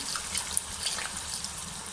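Water is poured into a hot pan of frying dal kofta gravy, giving a steady, fairly faint wash of pouring and sizzling for about two seconds with no talking.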